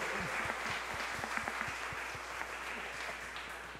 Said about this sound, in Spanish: un aplauso para ti desde Ay Bonito